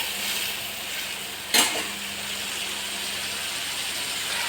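Spice paste frying in oil in a pan while being stirred, a steady close sizzle throughout with one brief louder scrape of the spoon partway through.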